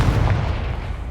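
Confringo blasting spell in Hogwarts Legacy, a single short, loud, booming burst with heavy low-end weight that lingers briefly and then fades.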